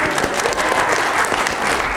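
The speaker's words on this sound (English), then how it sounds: "Round of applause." Steady applause from an interview-skills event audience fills the whole stretch, dense and even without a break, no voices standing out.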